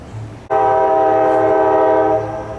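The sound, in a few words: train passing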